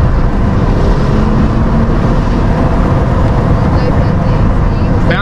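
Porsche 911 Turbo S and Ferrari SF90 racing, a steady loud roar of engine and wind noise throughout, with a voice talking over it.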